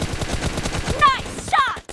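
Gunfire in PUBG Mobile's arena Domination mode, a short burst of rapid shots up close with sharp ringing impacts near the end, heard under game sounds with a brief voice.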